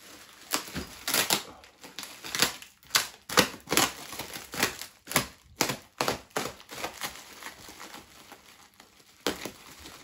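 Packaging being torn open from around a boxed motorcycle centre stand for a Benelli TRK, with a busy run of close crinkling, rustling and ripping bursts that continues irregularly for the full length.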